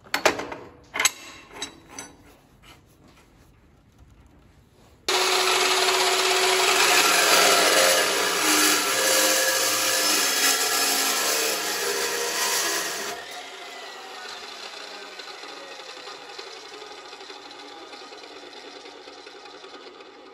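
A dry cut saw slices through steel drill pipe with a loud, continuous grinding screech lasting about eight seconds. Lighter handling clatter comes before it, and the blade winds down with a fading whir afterward.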